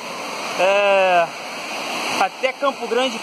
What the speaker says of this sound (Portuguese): Olha só que maravilha, Cachoeira do Medanha, em Rio de Janeiro, em Campo Grande